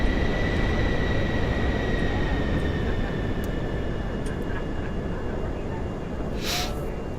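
Steady broadband roar of a Pilatus PC-24 business jet's engines in Microsoft Flight Simulator 2024, a continuous even drone with a faint high whine, no talk over it.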